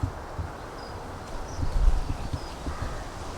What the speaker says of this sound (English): Say hello to the horses.